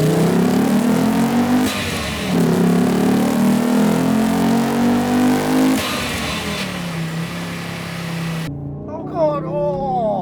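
A Fiat Coupe 20-valve engine fitted with an aftermarket induction intake and stainless steel exhaust revs hard from close by, rising and falling in long sustained pulls before cutting off, followed by an excited voice.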